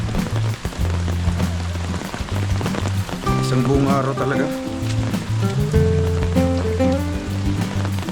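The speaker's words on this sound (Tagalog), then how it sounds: "Grabe ulan." Steady heavy rain hisses on surfaces as a person talks over it, with some tonal sounds mixed into the downpour.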